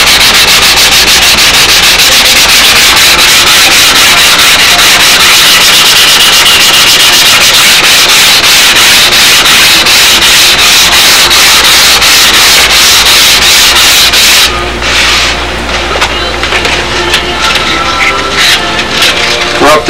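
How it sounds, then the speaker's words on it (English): Block sanding along the leading and trailing edges of a wooden model aircraft wing, a loud continuous rasping rub with rapid rhythmic strokes that shifts in tone near the end. "up to the stage where we're block sanding out the leading and trailing edges before we do the hinge line."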